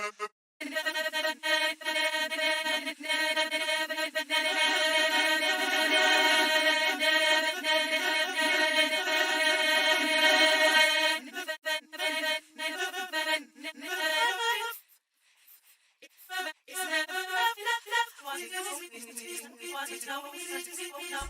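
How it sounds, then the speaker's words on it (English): Gospel choir sample run through the Quanta granulator plugin, giving a dense, shimmering sustained wash of fragmented vocal tones that later breaks into choppy, stuttering bursts with a brief gap, no speech over it. "This is a bit of the choir sample, bit of the gospel choir, put into a plugin called Quanta, which is a granulator"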